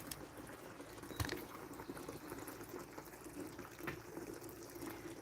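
Water drains from a Zeny mini portable washing machine with a soft steady trickling and gurgling, faint and continuous, with a couple of small knocks and no talk.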